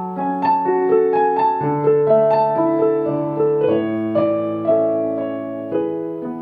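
Solo piano plays a gentle theme: a flowing melody over rolling broken chords, clear and close, with sustained notes ringing together and no speech.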